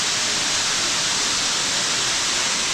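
Kanto Lampo waterfall in Bali roars as a dense, unbroken wash of falling water, steady and loud at close range, with no voices over it.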